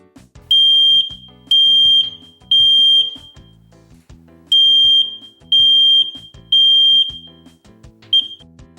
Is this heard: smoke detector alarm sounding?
yes